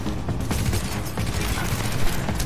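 Sustained, dense automatic gunfire in The Division as a gun empties its magazines: loud, rapid shots blur into a continuous rattling roar with no pauses.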